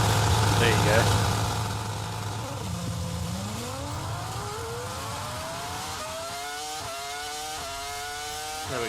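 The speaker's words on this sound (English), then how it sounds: "We'll get the engine sound back" Racing-game car engine on a Portugal rally stage, rising in pitch through steady climbing revs after a short burst of talk, then holding a strong mid-range drone with shifts.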